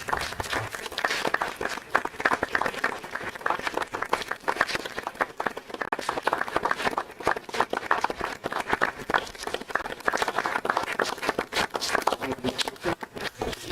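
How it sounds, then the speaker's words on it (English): A school board meeting audience claps for honorees, a moderate, somewhat sparse patter of individual hand claps continuing steadily, with faint movement and shuffling in the room. "Let's give them a huge round of applause."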